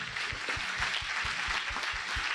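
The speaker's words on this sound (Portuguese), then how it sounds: "Aplauda bem forte o Senhor." A church congregation claps for the Lord in a fairly quiet, even wash of applause, with a regular thumping pulse running beneath it for the whole short stretch.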